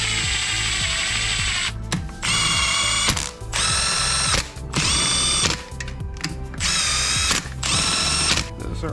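Bursts of a ratchet driving down bolts on a Mazda NB Miata six-speed transmission shell during reassembly, loud and close, with repeated clicking runs separated by brief pauses.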